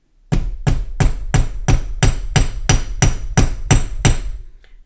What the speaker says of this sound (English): if you're going to hammer it, make sure that everything is nice and flat